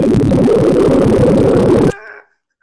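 Extremely short computer-generated tones, each lasting a fiftieth of a second, run together into a dense, loud, buzzing texture for about two seconds, then stop abruptly into a brief fading tail and silence.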